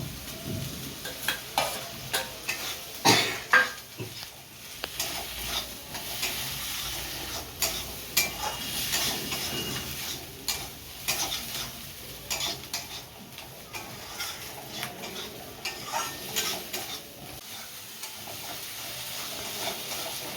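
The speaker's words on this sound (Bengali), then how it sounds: "চিংড়ি মাছ পেঁয়াজ রসুন একসাথে সব মশলা দিয়ে ভেজে নিয়েছি" Prawns fry with onion, garlic and spices in a pan, sending up a steady sizzle of moderate loudness, broken by repeated scrapes and clinks of a spoon stirring against the metal.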